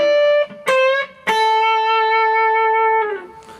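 Electric guitar blues lick: a few short picked and bent notes, then a long sustained note held with first-finger vibrato, clean and close.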